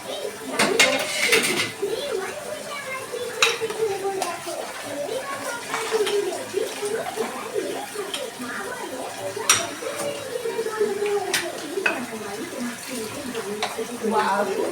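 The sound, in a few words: plates and spatula being washed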